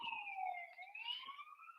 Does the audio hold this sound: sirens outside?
yes